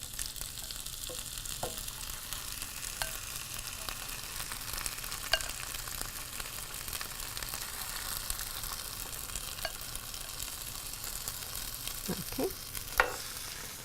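Stewed tomatoes and broccoli stirred together in a hot pan, with a steady low sizzle and scattered scraping clinks of the spoon, louder near the end; a brief spoken word.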